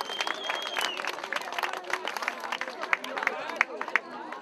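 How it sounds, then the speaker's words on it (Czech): An audience claps for a family at a fire brigade competition celebrating 120 years of the volunteer fire brigade in Dolní Přím, scattered applause mixed with crowd chatter and an announcer's voice over it. "Tleskáme rodinu."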